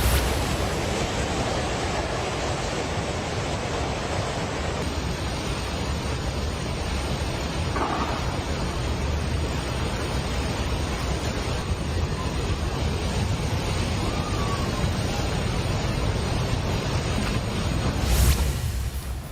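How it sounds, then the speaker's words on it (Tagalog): Flash flood water rushes along the Nepal–Tibet border in northern Nepal, a loud, unbroken roaring torrent that holds steady throughout with no pauses. "Ganyan nga kalakas ang epekto na flash flood sa northern Nepal kahapon"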